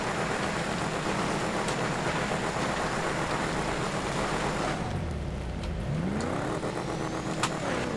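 A muscle car engine in GTA 5 Online drones steadily under rain-like noise, then drops low before the revs sweep upward again as the car accelerates.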